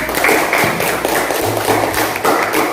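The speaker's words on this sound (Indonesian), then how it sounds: "Beri aplaus untuk kelompok 1." Students in a classroom clap for a group after its presentation, a dense, close patter of applause that runs steadily for a few seconds.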